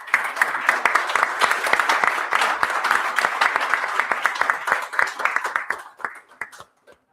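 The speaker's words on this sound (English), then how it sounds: "A big round of applause to Fred and his team." A large audience at a free-market conference applauds the event hosts, sustained dense clapping that swells and carries for several seconds before thinning out and ending abruptly.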